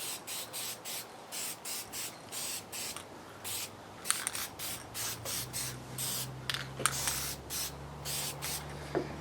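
Aerosol can spraying a primer coat in a quick rhythmic series of short hissing bursts, around twenty close puffs with brief gaps, plus a low background hum in the latter half.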